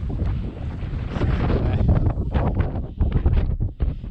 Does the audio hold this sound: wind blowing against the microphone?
yes